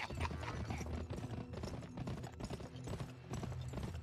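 Hooves of a horse in the video game GUN pound in a fast, steady galloping rhythm, close and loud, with a dense thudding clatter that never lets up.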